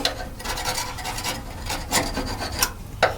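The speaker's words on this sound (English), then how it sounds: "I just heat it up a little bit and then I scrape it off" A scraper rasps heated paint off the body of a 1967 Mustang in a garage, with repeated uneven strokes close by and a few sharper scrapes toward the end.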